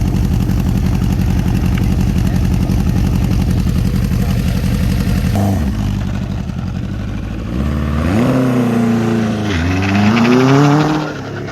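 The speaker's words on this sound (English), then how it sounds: "Rev that engine." A Honda XR250 dirt bike engine rumbles at idle, then is revved in several rising and falling bursts, loud and close, with no talk over it.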